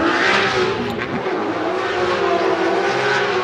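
A BMW M3 drift car at a Formula Drift qualifying event in Orlando, its engine held at full throttle in a loud, sustained, raspy roar with little change in pitch and no talking.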